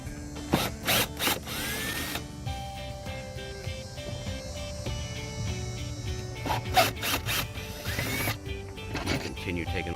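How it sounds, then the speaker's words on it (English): A power drill whirs in repeated short bursts, with ratcheting and mechanical clatter between runs as screws are backed out of a Pontiac Fiero tail light. "we're going to go ahead and use a power drill because it makes it so much faster"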